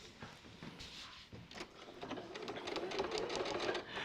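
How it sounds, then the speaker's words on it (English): A sewing machine stitches fabric along a drawn line in a short, steady close run that builds slightly toward the end, with no voices. "And then just sew on that drawn line."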